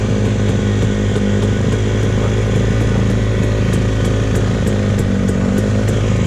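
Dirt bike engine fitted with a Pro Circuit exhaust, idling and revving outdoors in the desert: loud, close, continuous deep throbbing rumble with a steady rhythmic pulse throughout.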